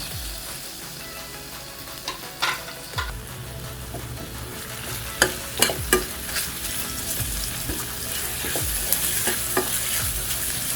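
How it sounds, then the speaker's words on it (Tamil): Chopped tomatoes sautéing in a hot pan for dhal curry, a steady sizzle with repeated scraping and stirring clicks of a spoon against the pan, close and continuous with no talking. "தக்காளி சேர்த்துடலாம். தக்காளி வதங்கட்டும்."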